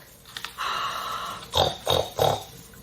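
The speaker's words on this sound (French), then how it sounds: "C'est les cochons tout ronds." Pigs at a piggery snort and grunt close by: a drawn-out breathy snuffle, then three quick, loud grunts in a row.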